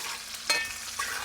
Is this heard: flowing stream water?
no